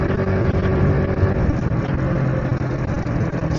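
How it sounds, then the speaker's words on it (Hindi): A motorbike speeds up on a street in a residential lane, with a steady loud engine drone and wind rumble held close throughout, no speech. "बाइक को ज़रा स्पीड लगाते हैं ना।"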